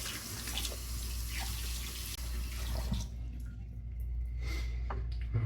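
Tap water runs steadily into a basin as someone rinses off after a straight-razor shave, a close, continuous splashing hiss that thins out midway with scattered drips and small splashes.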